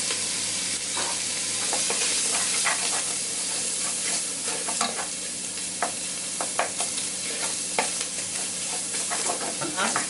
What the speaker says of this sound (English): frying off the smoked bacon.